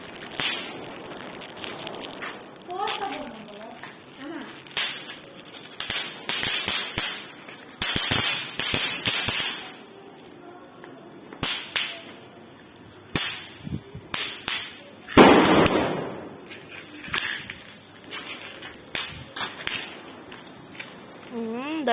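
Diwali firecrackers bursting, a 1000 wala string, in sharp irregular cracks and pops of varying loudness, with a dense, loud flurry near the middle and people's voices in between.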